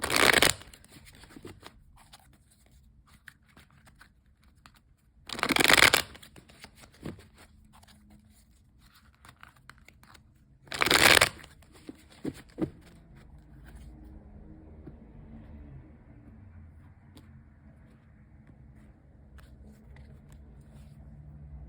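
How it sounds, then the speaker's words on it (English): Three quick, crisp rustling bursts of oracle cards being shuffled, spaced several seconds apart, followed by soft handling noises and a low background hum. "I will shuffle this deck just a few more times, flip the deck"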